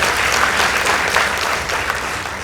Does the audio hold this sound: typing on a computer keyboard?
no